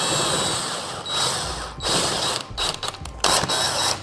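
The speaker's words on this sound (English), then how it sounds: "we'll go ahead and put the 4 big bolts in to start" Big bolts are driven into a chair seat backrest with a ratcheting tool, close clicking bursts in several short runs separated by brief pauses, with no voices.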